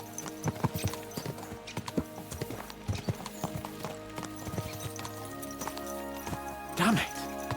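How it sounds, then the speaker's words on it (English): Horses gallop with rapid, loud clip-clop hoofbeats in the medieval video game Kingdom Come: Deliverance II, with a brief whinny near the end over a steady background of game music. "Let's really spur these horses on, eh?"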